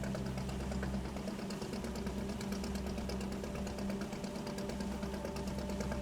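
In the Fishing: Barents Sea video game, a small fishing boat's putt-putt engine, likened to a lawnmower engine, chugs at a steady idle-like rhythm, faint and continuous with no voices over it.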